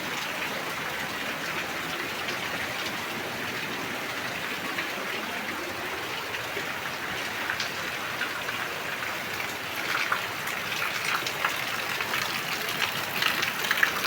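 Rain falls continuously in a steady, broad patter that grows slightly heavier and closer toward the end, with no voices.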